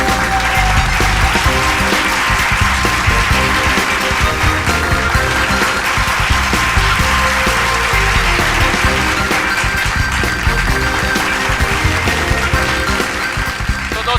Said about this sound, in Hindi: जोरदार तालियों के साथ इनका अभिनंदन करिए